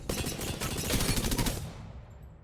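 Rapid automatic fire from the Prowler gun in the Apex Legends video game, a dense, loud burst of shots lasting about a second and a half before cutting off into quiet.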